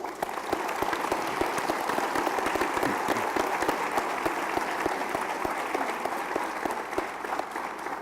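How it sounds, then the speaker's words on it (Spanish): A lecture-hall audience at a tribute event for Stephen Hawking gives sustained applause, many hands clapping in an even, continuous wash that is moderately distant and free of speech. "quisiera que les brindemos un fuerte aplauso"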